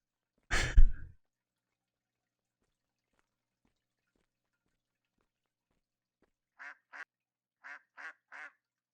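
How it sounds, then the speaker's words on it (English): A duck in a video game gives a short series of five clipped quacks near the end, fairly close and alone, after a single breathy burst near the start and a long stretch of near silence. "Keep hearing a duck."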